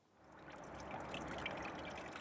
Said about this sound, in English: using a pair of grips just undo the valve nut at the end, which will start the water flowing